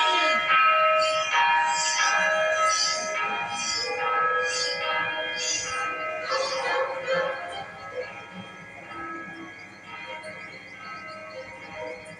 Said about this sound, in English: Oh my, it's the town bell.